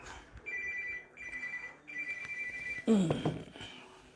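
A telephone rings with an incoming call from relatives, sounding as repeated electronic ring tones in short bursts, followed near the end by a brief louder, rougher burst of sound.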